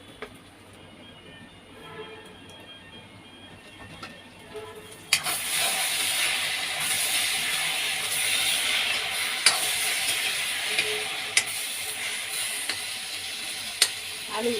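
Potatoes cooking in a covered pan over medium heat, with a faint quiet stretch that gives way to a steady, louder sizzle and a few sharp clicks and knocks.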